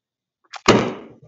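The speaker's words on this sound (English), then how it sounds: "I just burned that hydrogen gas instantly" Hydrogen gas produced from vinegar is lit by a flame and explodes in a single loud, sharp bang with a brief crackling decay, preceded by a faint small pop; no talking.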